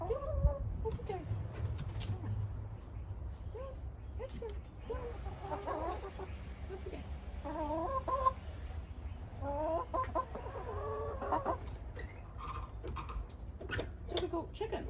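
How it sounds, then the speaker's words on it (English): Chickens squawking and clucking in a hoop house, repeated bursts of calls at moderate distance, with a person talking quietly among them. "Oh, what was all that squawking about?"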